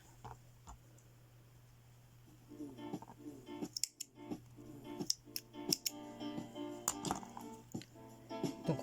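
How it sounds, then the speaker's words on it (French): Scissors snip through crochet yarn while a small crochet ring is being finished, a series of sharp, close clicks and snips after a quiet start. "Et je vais couper à ras."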